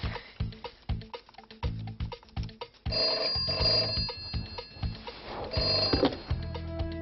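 A telephone rings in repeated electronic bursts during a game-show phone challenge, the rhythmic pattern shifting partway through into a denser, brighter ringing that continues loudly with no talk over it.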